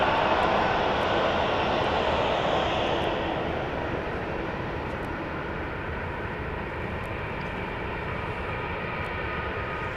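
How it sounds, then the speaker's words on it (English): A fixed-wing airplane roars steadily near Dallas Love Field, a loud continuous broadband engine rumble that slowly fades slightly, echoing and reverberating with no talking. "I hear a plane, but I don't see it."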